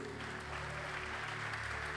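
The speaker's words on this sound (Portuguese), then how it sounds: "Você pode aplaudir Jesus por isso?" A church congregation applauds as a dense, continuous wash of clapping that holds steady at a moderate level throughout, with no pauses or other sounds standing out.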